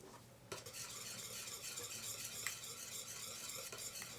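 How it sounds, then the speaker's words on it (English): Homemade foaming bath whip mixture melting in a pot is stirred steadily, a close scraping swish with faint clinks of utensil against metal, continuous and fairly loud with no talk. "let me stir it before I take the temperature"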